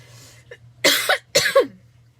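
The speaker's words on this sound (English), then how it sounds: "as you guys can hear, I still have my crazy cough" A person coughs twice in quick succession, close and loud, with a faint hum in the background.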